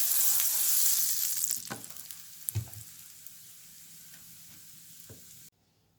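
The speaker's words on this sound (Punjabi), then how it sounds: "ਤੇ ਇਸੇ ਤਰ੍ਹਾਂ ਆਪਾਂ ਬਾਕੀ ਜਿਹੜੇ ਸਾਰੇ ਬ੍ਰੈਡ ਇਸੇ ਤਰ੍ਹਾਂ ਬਟਰ ਲਾ ਲਾ ਕੇ ਆਪਾਂ ਸੇਕ ਲੈਣੇ ਆ" Kulcha breads toast in butter on a hot pan, giving a steady sizzle that fades after the opening seconds, with a few sharp clinks and scrapes from the pan before the sound cuts off.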